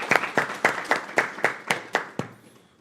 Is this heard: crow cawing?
no